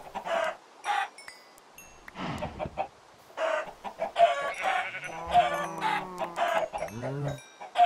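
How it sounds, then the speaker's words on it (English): Chickens cluck in a Minecraft modpack game, a busy flock of repeated clucks and squawks at close range running steadily through the stretch with no pauses. "so many chickens right now"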